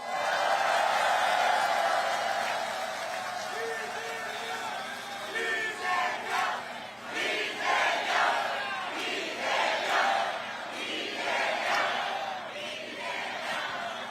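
Crowd at an outdoor political campaign rally by a train station in Gyeyang, Incheon, raising a dense sustained roar of cheering and shouting mixed with clapping, swelling and surging in waves throughout.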